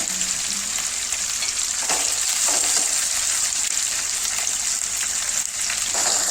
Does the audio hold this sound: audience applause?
no